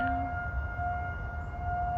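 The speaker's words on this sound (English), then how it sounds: "There's a siren going off right now." A civil defense siren wails steadily outdoors at a distance, a sustained even tone holding alone for the whole stretch.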